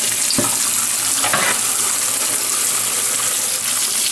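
Clean water runs and splashes steadily over a multi-function mandoline slicer being rinsed, a continuous close gush of rinsing with brief louder splashes near the start.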